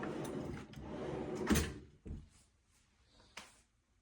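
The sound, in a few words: soft-close drawer closing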